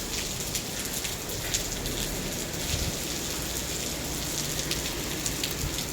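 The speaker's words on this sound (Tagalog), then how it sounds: "Kasi umuulan, tingnan mo siya." Steady rain patters and hisses on surfaces, a constant wash of drops with occasional louder splashes, no voices.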